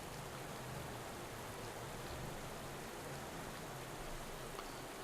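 Constant, faint rain hiss during a wet stage in Pro Cycling Manager 2017, even and unbroken throughout with no talking.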